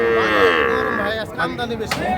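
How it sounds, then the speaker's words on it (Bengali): Sahiwal bull calves at the Ambari cattle market: one calf gives a loud, close, drawn-out moo, followed by shorter rough lowing sounds. "দর্শক, আমরা সামনে বেশ কিছু শাহিওয়াল ষাঁড় বাছুর দেখছি।"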